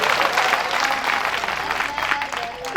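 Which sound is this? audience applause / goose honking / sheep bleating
audience applause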